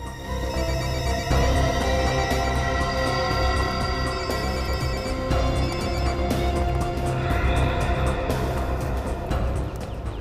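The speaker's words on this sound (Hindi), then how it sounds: "ये कोमल फोन क्यों नहीं उठा रही है?" A mobile phone rings on and on unanswered in a tense crime drama scene, its repeating electronic ringtone loud and continuous, layered over steady background music, with no voices.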